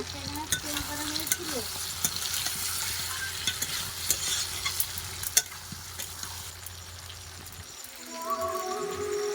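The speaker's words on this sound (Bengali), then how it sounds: "মশলাটা দেওয়ার পরে খুব ভালোভাবে কষিয়ে নেব" Poultry chicken with spices frying in a pan, with a continuous close sizzle and frequent scraping, clinking stirring strokes that ease off near the end, with no talk.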